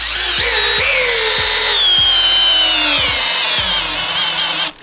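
A Milwaukee M12 Gen 2 drill drives a 6-inch TimberLok screw into timber, its loud motor whining steadily for several seconds with rhythmic clicks as the screw bites, slowing slightly under load before stopping abruptly.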